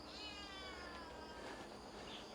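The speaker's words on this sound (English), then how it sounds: "Oh, hello, cat." A cat meows in a quiet village in Xiabucun, Dinghu, China, a single drawn-out falling cry that is faint and somewhat distant over low background noise.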